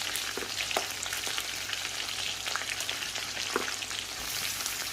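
Tomatoes hit a chicken karahi and fry with a loud, dense, continuous crackling sizzle, close and bright with sharp pops throughout; no voices.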